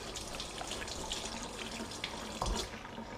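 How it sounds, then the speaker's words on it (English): Tap water runs steadily into a sink as hands are rinsed, with a soft continuous wash and a slight splashy change near the end, fairly quiet throughout. "And what we need to do now is just rinse my hands."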